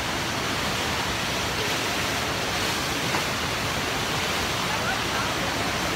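Constant broad roar of artificial standing surf waves formed by a dam in a park in Germany, loud and steady rushing water with no breaks.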